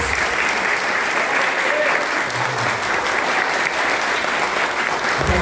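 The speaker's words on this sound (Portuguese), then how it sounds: "Uma salva de palmas." A Seventh-day Adventist church congregation in São Leopoldo gives a round of applause, steady loud clapping filling the room for several seconds with a voice faintly heard beneath.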